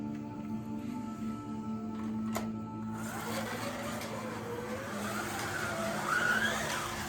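An Inco slot car runs fast around a track with a steady mechanical whir and buzz, a brief sharp click early on, then louder rising whine and rattle close by, no talk.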